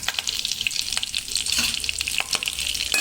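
Bay leaf, cloves and cardamom sizzle loudly in hot oil in a kadhai, a close, crackling fry with bursts of popping throughout.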